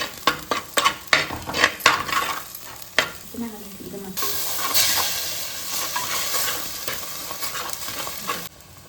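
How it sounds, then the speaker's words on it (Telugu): Turmeric and asafoetida fry in hot oil for a snake gourd curry, opening with several sharp spoon scrapes and clinks against the pan before a loud, steady sizzle takes over, close and without talk. "కొంచెం ఒక 1/2 స్పూన్ పసుపు, కొంచెం ఇంగువ, కొంచెం వేగనివ్వాలి."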